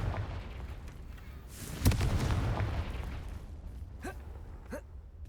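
A Confringo fire spell blasts in the video game Hogwarts Legacy, a sudden loud explosive burst with a rumbling crackle that trails off over a couple of seconds, followed by two short whooshing effects.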